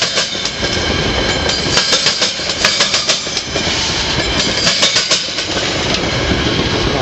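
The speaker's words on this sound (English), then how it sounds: "This train is going directly into the yard at Elburn." A westbound Metra commuter train led by an F40PH diesel locomotive rolls slowly toward the yard at Elburn, with steady wheel rumble, rhythmic clickety-clack over rail joints and a low engine drone, heard fairly close and without voices.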